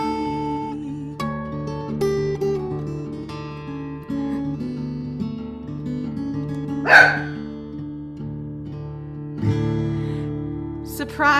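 A pet dog barks once sharply partway through, a loud yelp rising over ongoing live music during a virtual performance, with the song continuing before and after the bark.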